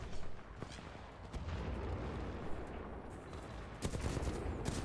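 Titanfall 2 gunfire rattles in a dense, continuous barrage with sharper individual shots standing out, heard at moderate level with no talking.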